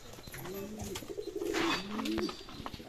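A male jumbo-size Raja breed fancy pigeon coos nearby in a low, rolling series of calls, with faint background noise around it.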